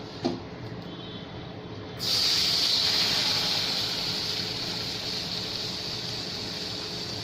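Milk poured into a hot pan of cooked roux for white sauce pasta sets off a sudden loud hiss after a quiet start, settling into a sustained, slowly fading sizzle.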